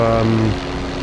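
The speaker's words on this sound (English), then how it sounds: "When their engines are warming up, that's it, off they go." Propeller engines of AI-controlled World War II aircraft warming up on a flight sim airfield, a loud steady drone whose pitch drops off after half a second, with a voice talking over it.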